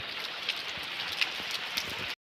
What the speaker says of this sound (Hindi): बारिश लगी हुई है तो इनको बाहर नहीं बांध सकते हम